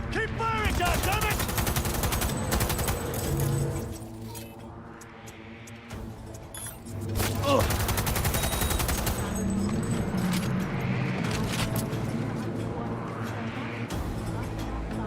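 Sustained automatic gunfire in a Cyberpunk 2077 firefight: rapid bursts of shots and fusillades rattle on and off with a brief lull midway, and a voice talks over the shooting.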